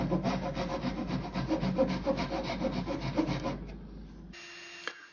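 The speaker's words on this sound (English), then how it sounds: "I'm gonna put them on my sander to sand the tip of it skinnier so it'll fit in" Small wooden wedge pieces for a mallet are pressed against a power sander, giving a close, continuous gritty rasping with rhythmic scrubbing pulses over the motor's hum before it stops and winds down.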